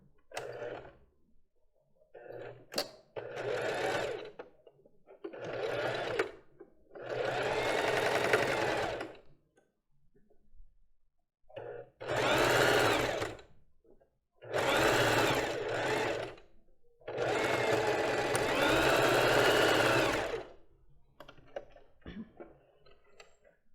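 Sewing machine running in repeated bursts while backstitching a lace bra, short stops and starts at the beginning and end of a seam, each run a steady close mechanical whir, with quiet pauses between.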